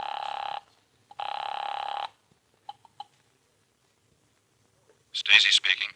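A telephone rings during a call, two long loud electronic bursts of trilling ring separated by a short gap, then a few faint clicks before a brief burst of voice.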